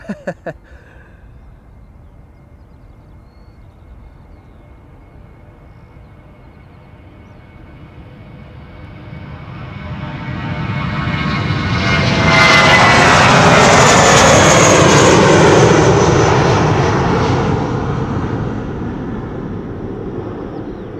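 An airplane takes off at Schiphol Airport, its engine roar building slowly from a distant rumble to a loud, broad roar that holds at its peak, then begins to ease, with no talking over it.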